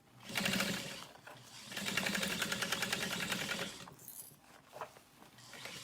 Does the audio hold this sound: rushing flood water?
no